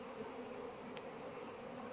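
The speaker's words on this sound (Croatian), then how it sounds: "Pčelice rade." Honeybees buzzing at the entrance of a hive on a chilly spring day, a soft, steady drone from many insects at once that carries on without a break, with no voices.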